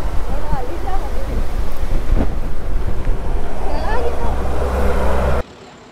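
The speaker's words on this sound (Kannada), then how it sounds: "ಸೊ ಗಾಳಿ ಹೆವಿನೇ ಬೀಸ್ತಾ ಇದೆ ಇಲ್ಲಿ" Strong wind blows across an open spot at Tirumala, buffeting the microphone with a loud, continuous low roar for over five seconds before cutting off abruptly.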